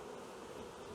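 Honey bees buzzing over a queen rearing frame, a faint, steady, droning hum with no voices.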